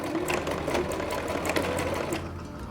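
A sewing machine runs in steady, continuous stitching as it backstitches at the end of a seam, close and loud with no pauses and no talk.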